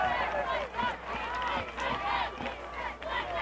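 Rousing crowd cheer at a high school football game between Scarsdale and New Rochelle, a sustained roar of many voices with shouts swelling and dipping throughout, close and loud.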